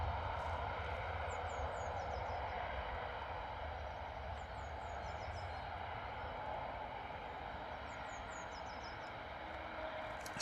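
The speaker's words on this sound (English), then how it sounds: "Here we go, EasyJet off Tenerife, A320neo." An EasyJet Airbus A320neo arriving at Bristol Airport, heard as a steady, distant jet engine roar that holds evenly throughout, with faint bird chirps above it.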